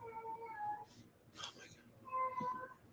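A cat meows several times, drawn-out tonal calls close by, with a soft voice speaking in between.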